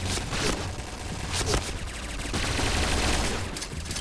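Rapid bursts of Kriss submachine gun fire in a PUBG match, dense overlapping volleys with sharp cracks that repeat through the stretch at close range, loud and steady with no talking.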